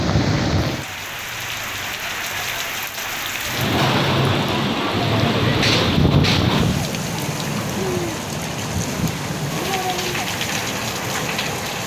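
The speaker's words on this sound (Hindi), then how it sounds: "मॉनसून के नए स्पेल को top gear. Kashmir, Gilgit Baltistan, Punjab, KP, Sindh और बलोचिस्तान के मुख्तलिफ इलाकों में जमकर बरसात।" Heavy monsoon rain pours down steadily in a dense, loud hiss with rumbles of thunder underneath, broken by a brief lull near the start before the downpour swells again.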